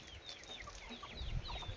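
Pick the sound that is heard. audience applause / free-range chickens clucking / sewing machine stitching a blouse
free-range chickens clucking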